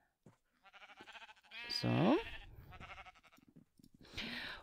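Sheep bleat in Minecraft, a sharp, loud wavering bleat in the middle and another toward the end, with quieter blocky game sounds around them.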